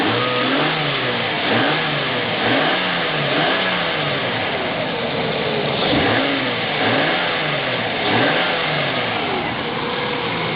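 A car engine running at low RPM gets gas and revs repeatedly, climbing and falling in pitch in several distinct swells over a steady idle, close and prominent with no talk.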